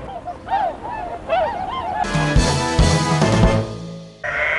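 Swans in Azumino honk loudly and repeatedly, a few separate calls at first and then a dense, overlapping chorus of nearby birds.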